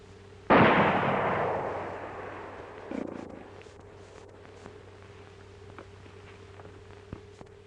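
A single loud gunshot cracks out in a 1942 western, its echo ringing and fading over several seconds, followed by a softer secondary thud and faint scattered clicks against a steady low background hum.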